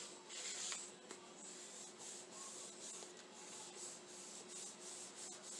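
A craft surface is rubbed back and forth against the raised stem ridges of a leaf, giving a steady, quiet, scratchy rasp that continues without pause and without any talking.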